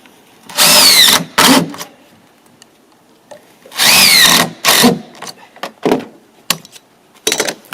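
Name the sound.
power drill driving screws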